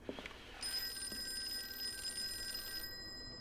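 A telephone rings in the horror video game Call of Cthulhu, a steady electronic trill that starts abruptly and holds for a couple of seconds over a low ambient room tone, with no speech.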